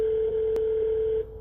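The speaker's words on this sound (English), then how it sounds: "Now the phone's ringing here." A telephone rings on a call-in night radio show as a single steady electronic tone, loud and continuous for about a second before it stops, with no talk over it.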